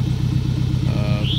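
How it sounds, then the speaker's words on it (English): A car with coilovers idles after sitting overnight, its cold engine running with a continuous low, rough rumble up close while a person talks over it. "She sat overnight, so that's how she sounds when she first fires up."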